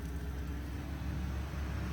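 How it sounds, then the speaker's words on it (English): Road traffic rumbles outdoors beside a Masterbuilt 560 smoker cooking beef ribs, a continuous low, fairly faint wash of passing cars with no voices. "Sorry about the road noise."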